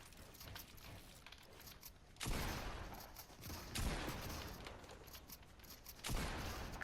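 Pump-action shotgun blasts in a video game, three loud broadband bursts spaced a second or two apart, each decaying slowly amid clicking mechanical game sounds between shots.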